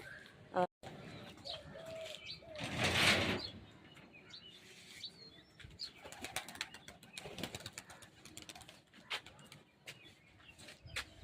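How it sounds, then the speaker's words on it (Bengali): Racing pigeons released for a tournament, cooing near the microphone with a burst of wing flapping, while chirps, rustles and a person's talk mix in throughout. "6টার সময় আজকে পায়রা ছাড়লাম।"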